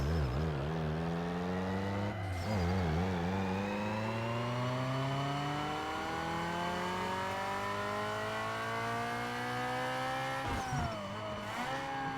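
In Need For Speed Underground 2, a Toyota Corolla with a 1.6L I4 engine makes a full dyno run: loud, continuous engine drone rising steadily in pitch through the gears, with brief shift dips and a final wind-down.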